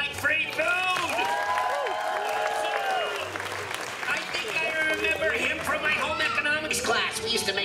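A small group in Orlando claps and whoops for free churros, continuous applause under lively voices and laughter, close and busy throughout.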